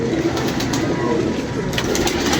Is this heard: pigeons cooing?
yes